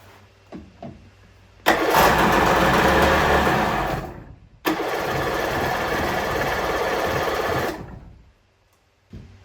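A Kawasaki JS550SX two-stroke jet ski engine cranks and catches, running loud and raspy for a couple of seconds, drops out, then restarts and revs steadily before cutting off.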